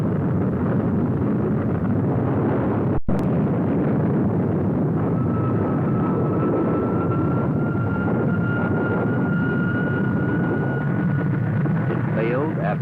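A Vanguard satellite rocket launch fails in December 1957, heard as a sustained rumbling roar with a sharp crack early on, in old archival sound.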